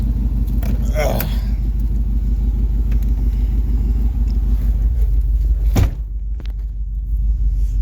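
A Chevrolet Suburban with an engine miss and a bad exhaust leak idles roughly, a loud continuous low rumble with uneven pulsing, a brief clatter near the start and a sharp knock before the idle dips and recovers.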